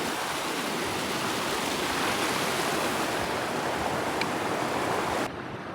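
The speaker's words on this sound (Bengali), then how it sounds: "পানির চলচল আওয়াজ" Rushing water in a stream at Rangpani, Sylhet, a steady, loud, broadband wash that fills the whole clip and drops slightly at the very end.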